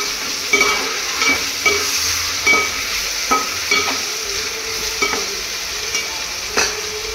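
Tomato pieces frying in a pan and being stirred with a spoon, a continuous close sizzle marked by regular scraping strokes about once a second, no voices.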